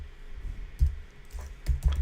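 Soft keystrokes on a computer keyboard tap out a link in a quiet room, a few scattered clicks and short bursts, close but faint.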